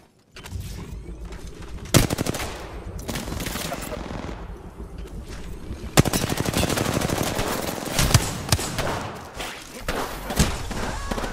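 Gunfire in the video game Apex Legends: sustained automatic bursts with heavy thumping impacts, loud and close, with sharp peaks near the start and middle.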